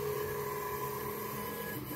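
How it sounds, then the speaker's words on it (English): A CNC laser engraver works on a black and white portrait, giving a steady low mechanical hum and whir of motors moving the head, fairly quiet and unbroken. "Black and white portrait laser CNC"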